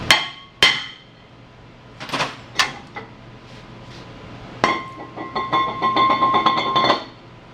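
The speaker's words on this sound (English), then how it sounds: "you can use a regular hammer to remove them" Sharp metallic strikes of a regular hammer knocking off a car brake rotor ring out, a few spaced blows followed by a rapid series of ringing knocks, loud and close.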